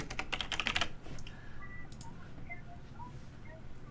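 Someone types quickly on a computer keyboard nearby, with a dense cluster of crisp key clicks that thins to a few scattered taps over faint background tones.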